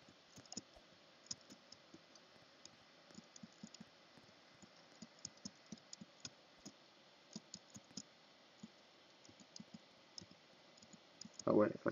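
Rapid, faint mouse clicks tick irregularly through a quiet stretch of Roblox gameplay, sharp isolated taps with brief gaps, ending in a short louder rustle.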